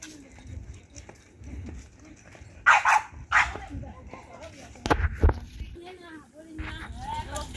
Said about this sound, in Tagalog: Tahol pa rin pa rin.